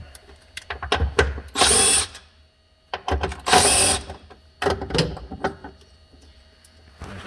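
A power tool spins out two 10 mm bolts from the frunk latch of a Tesla Model Y, with bursts of motor whir and ratcheting, short clicks and handling clatter between two main runs, close and fairly loud.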